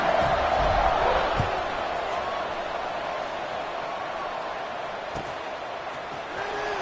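A stadium crowd in a football video game buzzes steadily after a score, a continuous broad murmur with a brief swell near the start and a couple of faint thuds.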